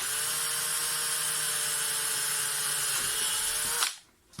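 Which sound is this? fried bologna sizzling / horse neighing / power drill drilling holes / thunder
power drill drilling holes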